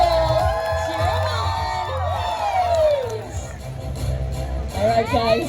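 A crowd including children cheers and shouts with whoops, an excited, lively hubbub that surges again at the end.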